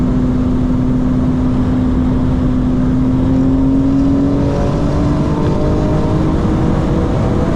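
A 2025 BMW M4 Competition xDrive engine drones loudly from inside the cabin while accelerating, its pitch climbing gradually over steady road and exhaust noise.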